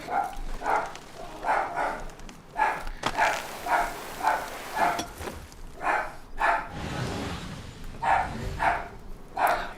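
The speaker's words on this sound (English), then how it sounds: "Excuse the dog barking." Dog barking in the background of a home gaming livestream, a series of repeated rhythmic barks at moderate distance over a steady room and game backdrop.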